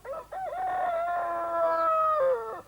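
A voice imitates a chicken alone, close by, with a couple of short clucks and then one long, drawn-out crowing call.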